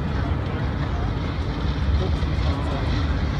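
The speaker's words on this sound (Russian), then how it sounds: "Самолет так низко летит вообще." A steady, low roar of an airplane flying low overhead, the engine droning constant and fairly loud, with a voice speaking over it.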